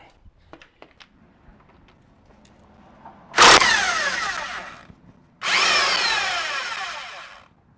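A power tool, likely an impact-style driver, zips off brake caliper bolts on a fourth-generation Toyota 4Runner in two loud, close bursts of about one and two seconds, after a few faint clicks and taps.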